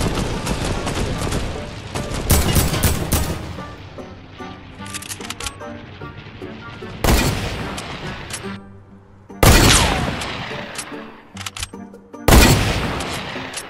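Gunfire in the video game Fortnite, loud sharp volleys and booming shots that cut in abruptly over a continuous background of game sound, with several heavy bursts spread across the stretch.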